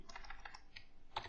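Keystrokes on a computer keyboard, a quick run of soft, closely spaced taps with a slightly louder final press, faint and close with no voices.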